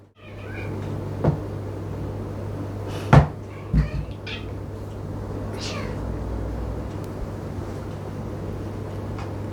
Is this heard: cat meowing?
yes